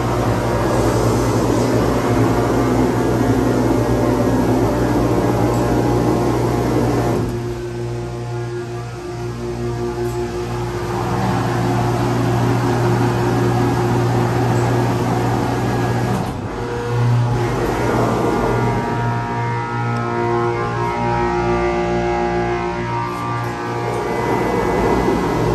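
Steady loud motor hum and pump drone from a Schindler/ITI dual-pump submersible hydraulic elevator machine in its machine room, a continuous tonal rumble with a brief dip midway.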